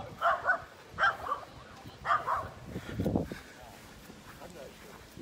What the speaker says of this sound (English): Dog's here.